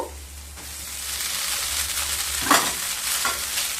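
Mixed vegetables stir-fried in a pan for a semolina vermicelli upma, a continuous close sizzle with a few louder scraping stirs and no speech.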